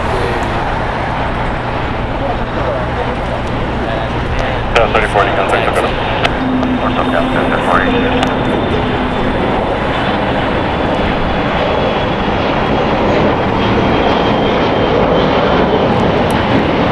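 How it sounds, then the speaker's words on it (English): A China Eastern Airlines Boeing 777-300ER at LAX produces a loud continuous jet roar with a whining tone, while a voice talks intermittently over the engine noise. "China Eastern Airlines Flight 58-3 looking directly at you. It's Boeing 777-300ER"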